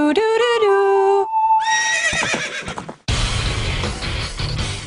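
A horse whinnies loudly in Zelda: Ocarina of Time, a long rising and falling neigh, followed by a brief pause and then a busy burst of game noise and music.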